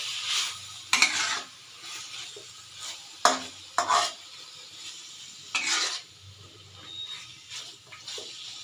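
Pork with black pepper stirred in a pan for a Bisaya pork dish, with a few sharp scraping strokes and clinks over a soft, low sizzle, close but quiet.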